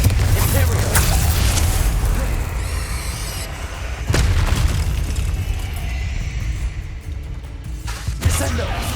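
Rapid spell blasts from Bombarda, Confringo and Descendo in the Hogwarts Legacy video game: heavy, continuous booming explosions with sharp impacts around four and eight seconds, under shouted spell incantations.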